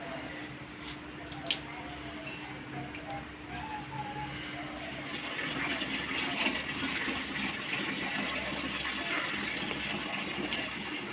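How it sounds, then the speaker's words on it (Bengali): Water squishes and drips as a wet blanket is wrung out by hand, giving soft, fairly faint splashing and trickling that grows a little fuller in the second half. "অনেকটা জল ঝরে গেছে, বারবার চিপে দিচ্ছি"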